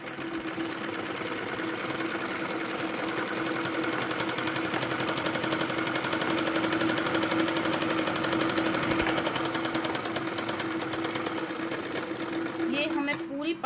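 A sewing machine stitches a jacket with a steady, fast mechanical whir that runs unbroken for over ten seconds before slowing to a few clicks near the end.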